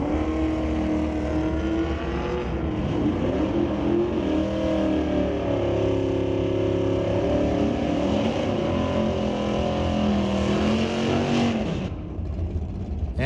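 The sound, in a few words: drag race cars, 1973 Chevy Nova and GT Fox body racing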